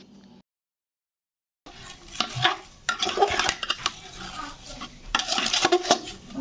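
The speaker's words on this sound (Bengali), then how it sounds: "ভালো করে নাড়াচাড়া করে নিতে হবে মানে সিমাইটাকে রসের সাথে ভালো করে মিশিয়ে দিতে হবে" Semai vermicelli being stirred into sugar syrup in a pot, producing irregular scraping and clinking bursts of a utensil against metal after a brief silent gap, no voices.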